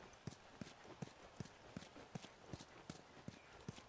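A horse's hooves clip-clop in The Last of Us video game, a steady walking rhythm of crisp, evenly spaced hoof strikes close by over a quiet background.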